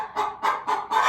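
A hen clucks in four quick, close bursts, evenly spaced and fairly loud.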